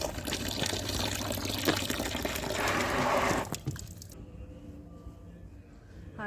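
Tap water running and pouring into a container at home, ready for hand-washing an embroidered suit with baking soda; a steady, fairly loud splashing flow for about three and a half seconds, then it stops and someone speaks over quieter room sound.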